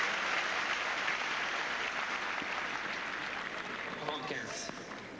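Tennis crowd applause after a Henman–Coria forehand, a steady loud wash of clapping that slowly fades, with a commentator's voice faintly underneath toward the end.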